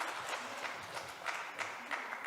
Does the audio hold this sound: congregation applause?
yes